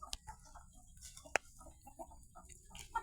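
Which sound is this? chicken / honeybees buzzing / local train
chicken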